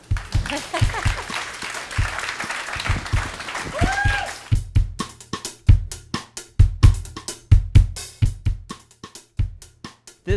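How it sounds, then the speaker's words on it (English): A debate audience breaks into applause, dense clapping for the first few seconds that thins out into scattered claps and low, irregular thuds. "Please applaud"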